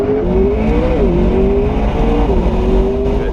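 A McLaren engine on its stock exhaust drones loudly and steadily, close by, with the pitch shifting slightly as it revs and settles.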